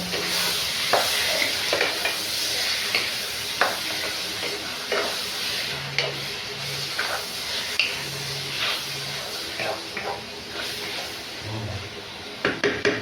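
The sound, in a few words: goat meat stirred and sizzling in a pan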